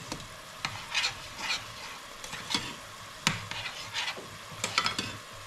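Black beans cooking in a pot on a stove, with a steady soft sizzle and bubbling under scattered stirring scrapes and light utensil clinks, close by and no talking.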